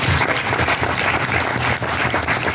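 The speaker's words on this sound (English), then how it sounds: "a big round of applause" Applause from the audience at a book launch: a dense, continuous round of clapping that stays loud and full from start to finish with no talk over it.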